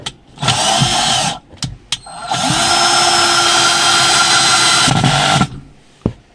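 A power drill drives a screw into the gearbox of a Haier washing machine, two sustained whirring bursts with a short burst between them, loud and close, then stopping with a brief click.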